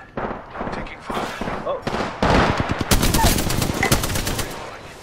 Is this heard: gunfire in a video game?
yes